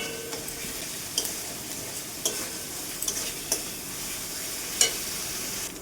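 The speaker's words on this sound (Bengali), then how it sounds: "ভালোভাবে মশলাটা আমি কষিয়ে নেব" Masala paste with salt, turmeric and Kashmiri chilli powder sizzles steadily in a pan for ghugni, with scattered sharp scrapes of a spoon stirring it at close range and no talking.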